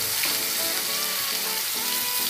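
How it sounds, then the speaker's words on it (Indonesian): Minced shallots and garlic sautéing in hot oil for mie setan, a loud, dense and continuous crackling sizzle heard close up with no talk over it. "Minyaknya sudah panas. Kita tumis bawang merah sama bawang putih."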